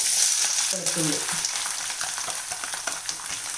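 Mustard seeds spluttering in hot oil for a homestyle gooseberry pickle, a close, steady sizzle scattered with small sharp pops, and a brief tonal clatter early on.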